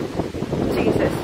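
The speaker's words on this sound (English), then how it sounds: "Oh my god, it is so bloody windy." Strong seaside wind at Porthcawl buffets the microphone in a rough, steady roar that rises and falls over a brief moment.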